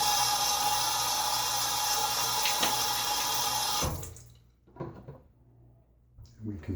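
Water running steadily from a tap into a sink as the face is wet before shaving, then cutting off into a few short splashes and drips of hands scooping water.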